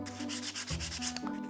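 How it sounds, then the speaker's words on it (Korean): Sandpaper lightly sanding a deliberately patterned surface, knocking down the raised ridges: a steady, close, continuous scratchy rubbing with gentle strokes, heard alone. "처음엔 잘 안 보였지만 사포가 이렇게 갈리면서"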